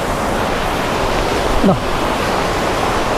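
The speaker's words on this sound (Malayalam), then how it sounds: "ആ വെള്ളച്ചാട്ടത്തിൻ്റെ ഒരു തീവ്രത." A constant roaring rush of falling water at Kuthumkal waterfall in Idukki, Kerala, broad and steady, with a brief low voice-like sound partway through.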